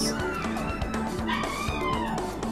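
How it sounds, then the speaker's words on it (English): A dog barks and whimpers against a loud, dense backdrop of video game music and effects, with short yips and whines woven through the busy mix. "Dog's going crazy."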